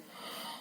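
A storyteller imitates a yawn with a single soft, breathy exhale that swells and fades in under a second, faint and close.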